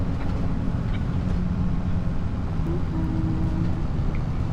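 Large tractor engine in a farming video game, a steady, loud diesel drone with low rumble running continuously throughout, no talk.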